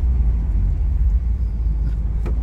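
A 1989 Aston Martin Lagonda Series 4 accelerating hard, its engine giving a loud, continuous low rumble heard from inside the cabin with steady road noise and no talking.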